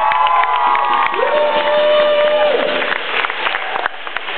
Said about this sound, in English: give the merch guys a round of applause